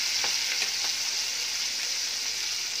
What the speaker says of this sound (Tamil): இப்போ நம்ம கட் பண்ணி வச்சுருக்க இந்த தக்காளி இதோடு ஆட் பண்ணிக்கலாம்.